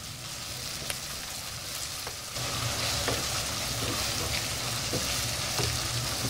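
Keema masala fries in a pan, a steady oily sizzle with occasional scrapes and clicks from stirring, growing louder and fuller partway through, with no voices.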